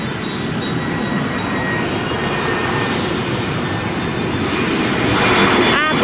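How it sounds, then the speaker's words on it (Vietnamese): A large white Jetstar Pacific airliner passes low overhead on its landing approach near an airport-side cafe in Saigon, a loud, steady engine roar that swells toward the end. "Rồi chuẩn bị bay vô này. Chiếc bay khá lớn, không biết là của hãng nào đây hay là của Vietnam Airlines."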